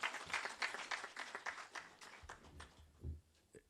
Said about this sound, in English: May we give him another round of applause.